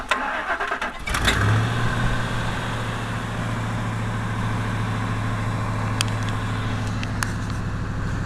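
A car's starter is triggered by bridging the starter solenoid with a screwdriver, and after a brief crank the engine fires and settles into a steady, loud running hum for several seconds.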